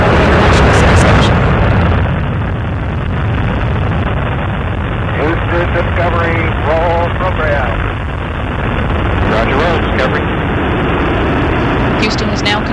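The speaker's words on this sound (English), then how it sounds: "Booster ignition and liftoff of Discovery, carrying the third crew of astronaut residents to the International Space Station" Space Shuttle Discovery's boosters ignite and lift off on launch day, a deep, continuous thundering roar that fills the whole stretch while a voice talks over it.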